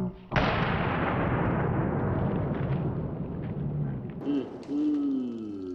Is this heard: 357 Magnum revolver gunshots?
yes